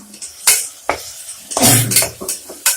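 Blended tomatoes go into a pan of browned onions for vegetable biryani, with several distinct clanks of a pot and utensil followed by a short burst of sizzling as the purée hits the hot pan, then more scraping knocks.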